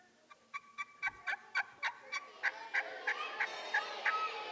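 A turkey call used in deer hunting yelps in a rapid, evenly spaced series of about fifteen sharp notes, close and loud in a quiet room.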